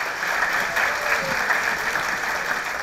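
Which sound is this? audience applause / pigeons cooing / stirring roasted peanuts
audience applause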